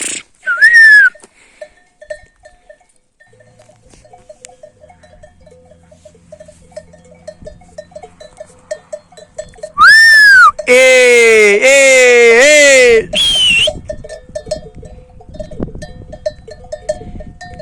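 Sheep bleat loudly nearby, one short call early on and then a burst of several drawn-out bleats, with a faint bell tinkling and occasional voices.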